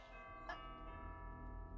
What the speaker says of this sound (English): Those are those bells.